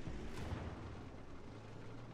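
An SU-14-2 self-propelled artillery gun firing a shot in World of Tanks, a single deep boom at the start that fades into a low rumbling tail, fairly faint overall.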